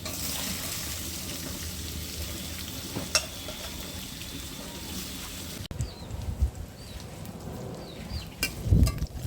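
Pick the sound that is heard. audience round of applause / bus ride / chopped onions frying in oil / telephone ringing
chopped onions frying in oil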